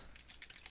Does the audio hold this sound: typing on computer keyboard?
yes